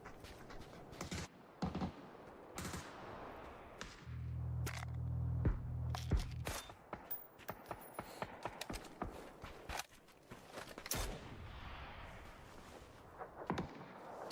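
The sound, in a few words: gunshots in a video game match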